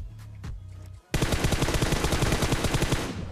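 Rapid automatic gunfire in a shooter video game: a short burst, a brief pause, then a long, loud, steady stream of close shots firing at an even fast rhythm.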